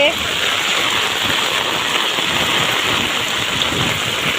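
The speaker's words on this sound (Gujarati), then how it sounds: "આટલો ધોમ વરસાદ આવે છે" Heavy monsoon rain pouring down in Ranpar, Gujarat, in a dense, steady roar, loud and continuous, with no break in the downpour.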